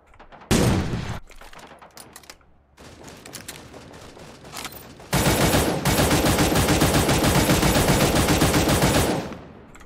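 Gunfire in the Cyber Hunter battle royale game: a loud opening burst, a stretch of scattered shots, then a long sustained rapid-fire volley lasting several seconds before cutting off.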